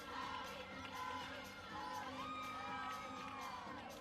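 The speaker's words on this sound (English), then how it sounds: "I love how you can hear the Illinois team in the back chanting for her as well" Illinois women's gymnastics team chanting and cheering for a gymnast at a meet, a distant crowd-like mix of voices and whoops, faint and steady throughout.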